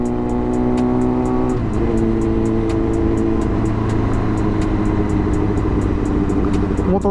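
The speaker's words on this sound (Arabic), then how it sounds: "ها كتكسيري شويه الموتور كيتنفس" A car engine revs and settles, its steady tone dropping in pitch in a couple of steps before holding a lower idle, accompanied by a rapid ticking click repeating throughout.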